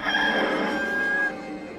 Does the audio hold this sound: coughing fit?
no